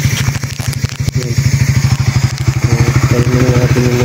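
A motorcycle engine idles close by, loud and steady, with a fast even pulsing rhythm and some clattering mechanical noise over it.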